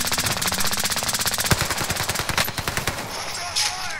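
Sustained automatic gunfire in Call of Duty: Modern Warfare rattles loudly and rapidly for about three seconds, with overlapping bursts and a heavier shot, then tapers into scattered quieter reports.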